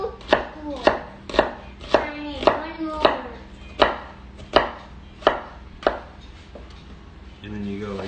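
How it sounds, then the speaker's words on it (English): A knife dices an onion against a cutting board in about a dozen sharp, evenly spaced chops, close and crisp, with a steady low hum beneath and a softer shuffle at the end. "This is kind of like your classic technique for dicing an onion, is you go in like this, and then you make all these different cuts."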